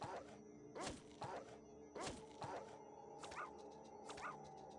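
A dog whimpers and yips in Fallout 1, the short, pitched cries repeating at a steady pace over low game ambience.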